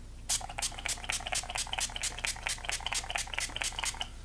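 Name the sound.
spraying facial setting spray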